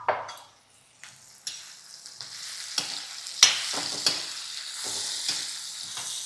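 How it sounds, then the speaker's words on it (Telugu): Drumstick pieces sizzle in hot oil with onions while a spoon stirs them now and then, a steady close frying hiss broken by soft scrapes and clinks, with no talking. "ఇందులోకి ములక్కాయలు వేసేసుకుందాం."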